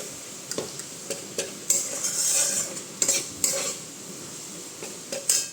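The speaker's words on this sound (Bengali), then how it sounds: "পুরো ভালো করে একটু নেড়ে নিতে হবে যেহেতু মালাইটা পড়েছে ওর মধ্যে" Cream mixture stirred in a pan while making barfi, with the gas turned off: repeated scraping strokes and light metallic clicks of a spoon against the pan over a faint sizzle, close and unhurried.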